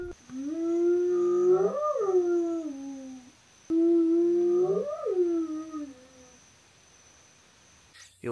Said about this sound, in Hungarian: Az éj leple alatt vadállatok ordítását hallottuk.